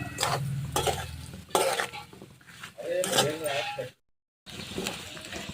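Tinda vegetable, called dhemse, is stirred in a pan with loud clattering utensil scrapes and a sizzling hiss; a voice talks over part of it, followed by a brief dropout before stirring resumes.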